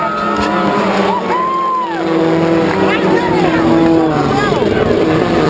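Rallycross race cars spinning out at New Hampshire Motor Speedway: loud, continuous engine roar with revs swooping up and down in pitch and some tyre noise, with a voice running over it.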